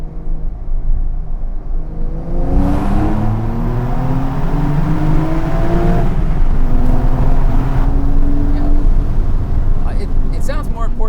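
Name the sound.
Porsche 992 Carrera T accelerating in second gear through tunnel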